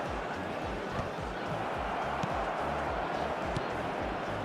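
Dense, steady stadium crowd noise from an eFootball match, a broad continuous roar with faint rhythmic chanting and scattered claps, loud and constant under a commentator's voice.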